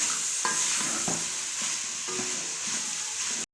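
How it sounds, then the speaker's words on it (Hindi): Peas and carrots fry in a pan for Chinese pulao, a dense close sizzle with a few stirring scrapes, steady until a sudden brief cutoff at the end. "अभी फिर इसको हम भूनेंगे।"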